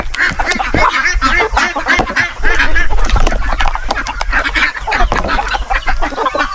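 Several native chickens on a farm cluck and squawk close by in a busy, overlapping chorus, with some quacking-like calls mixed in.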